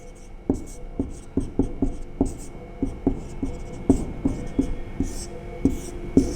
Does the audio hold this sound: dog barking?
no